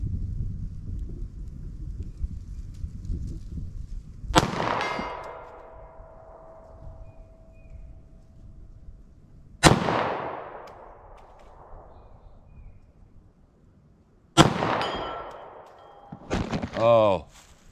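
Three sharp, loud gunshots from a .380 ACP+P pistol firing Underwood hard cast ammunition outdoors, widely spaced, each with a ringing decay, over light wind noise and a clatter at the end.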